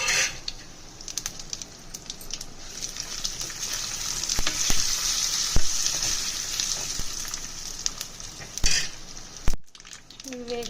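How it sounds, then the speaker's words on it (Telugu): A small wok of peanut oil crackles with tempering spices: garlic, fenugreek, cumin, urad dal, mustard seeds and dried red chillies. Sharp pops and spits rise over a steady hiss, with a few utensil clinks and a brief break near the end. "చిన్న కళాయి పెట్టుకొని దాంట్లో శనగ నూనె వేసుకొని తాలింపు దినుసులన్నీ వేసుకోవాలి."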